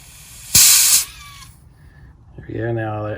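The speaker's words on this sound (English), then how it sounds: "Loosen the cap slowly to release the pressure in the system." A sharp burst of hiss as the brake fluid reservoir cap on a BMW 135i is slowly loosened to release system pressure, loud and close for about half a second, then fading, with a voice speaking afterward.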